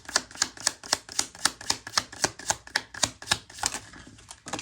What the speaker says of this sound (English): If you hear me shuffling a lot